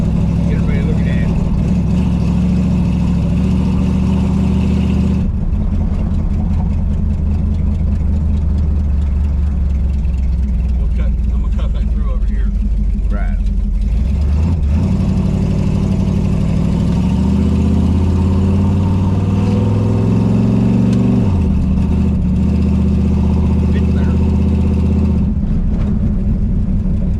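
A rebuilt 1968 Dodge Charger R/T engine rumbles steadily while driving through a neighborhood, with low throbbing idle and revving swells throughout and someone talking over it.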